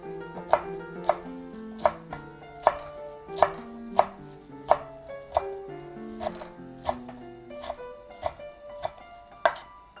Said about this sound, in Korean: 이렇게 해서 무청은 잘게 썰겠습니다